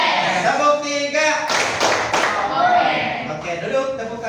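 A classroom of students doing a quick three-beat group clap pattern during a lesson: a short burst of sharp hand claps in the middle, surrounded by a teacher and pupils talking.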